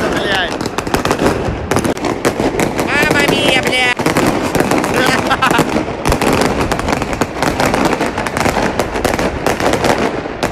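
Dense, continuous crackling and popping of New Year's fireworks going off nonstop on an Amsterdam street, sharp bursts layered over each other with voices faintly underneath.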